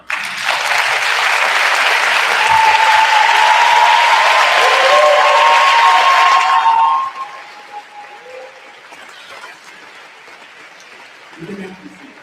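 Graduation audience at a high school ceremony gives a loud, sustained round of applause for several seconds, with faint clinks in it, then cuts off sharply to quiet room tone with a brief murmur near the end.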